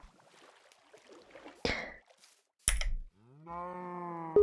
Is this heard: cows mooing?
yes